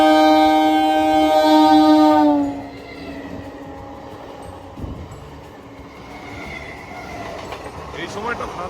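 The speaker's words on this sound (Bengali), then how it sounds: "ট্রেন আসছে।" A train arrives at a station, first sounding a loud, sustained horn blast for about two seconds, then rumbling and rattling on past with faint wheel squeal and clatter under distant background noise.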